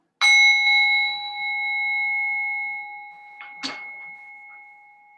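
A bell is struck once to time a yoga pose in a quiet restorative class, its clear ringing tone sustaining for about three seconds, followed by a second softer strike that rings on faintly to the end, with no talking.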